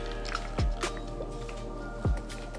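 A makeup sponge is rinsed and squeezed of soapy water, giving two soft wet squishes about a second and a half apart, with dripping and trickling water running quietly between them.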